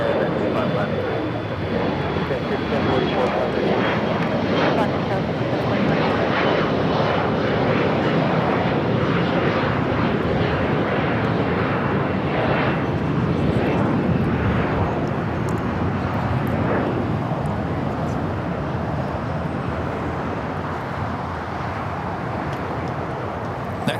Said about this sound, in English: LAX takeoff here on the south side.